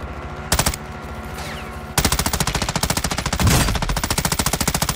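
Automatic gunfire in Call of Duty DMZ: a short burst, a pause, then a long rapid stream of loud, close shots firing in steady succession.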